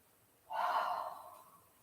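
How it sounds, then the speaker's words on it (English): A single deep cleansing breath during a slow yoga flow, exhaled audibly through the mouth as a soft, close, breathy rush lasting about a second after a quiet start. "Let's do a nice cleansing breath here. Inhale, hold, and exhale through the mouth."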